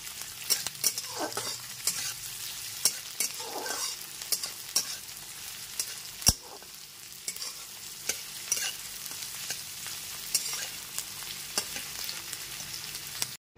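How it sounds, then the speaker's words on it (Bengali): Chopped onion stirred and frying on a medium gas flame, a steady soft sizzle broken by repeated scraping strokes of a spoon in the pan, close and alone with no talking. "গ্যাসের ফ্লেমটা মিডিয়ামে রেখে পেঁয়াজ কুচিটা"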